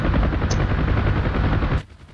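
Door gunners on a Huey helicopter in the DCS flight simulator fire a sustained, loud burst of machine-gun fire that runs steadily and cuts off abruptly near the end.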